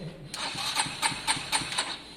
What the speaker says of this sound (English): That is a working, running engine.